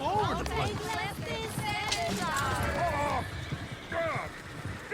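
Galloping horse hooves and whinnies from Red Dead Redemption 2, with a coach rattling along amid shouting voices and crowd babble, dense and close.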